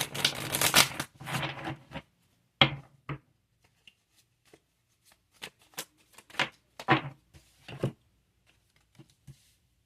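A deck of tarot cards is handled close up during a reading. A dense burst of riffling and shuffling comes first, followed by scattered crisp flicks, taps and slaps of single cards in a quiet room.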